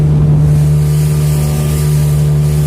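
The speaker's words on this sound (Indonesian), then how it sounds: "Kita bisa menikmati naik speedboat untuk keliling di Telaga Sarangan ini." A speedboat ride on Telaga Sarangan lake: a loud, steady engine drone with a strong low hum fills the whole stretch, rushing water noise layered over it, close and unbroken.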